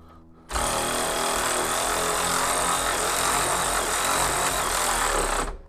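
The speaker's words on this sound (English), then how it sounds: "the cordless ratchet, my favorite tool" A cordless ratchet tightens a coilover bolt on a 1986 Monte Carlo SS in one continuous high whirring run of about five seconds, loud and close, stopping abruptly.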